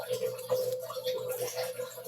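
Water trickles steadily from a home fish tank filter, a close, continuous bubbling and splashing with a faint hum underneath and no voices.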